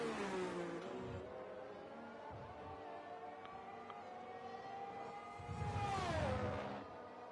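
Formula 1 race cars in F1 23 at a Portugal circuit howl with high engine notes that rise and fall through gear shifts, passing at a distance before another car roars by more loudly near the end.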